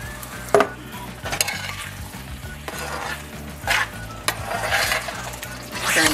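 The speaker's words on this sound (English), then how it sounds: "Get all that sauce in there." Beef and steak meat sauce is stirred into fusilli pasta in a pan, with a soft sizzle under repeated utensil clinks and scrapes against the pan and a few sharper knocks, close and moderately loud.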